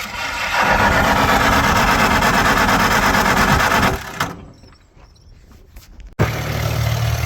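1949 Farmall H tractor engine in winter, a loud continuous mechanical churn of cranking that fades and stops, followed by the engine catching and settling into a low steady running note, no talking.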